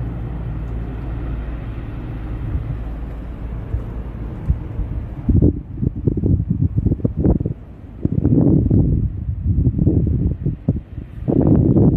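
Wind roars steadily as a wildfire burns in Mani, Greece, a dense broadband rush for about five seconds that then breaks into loud, irregular gusts buffeting close against the microphone.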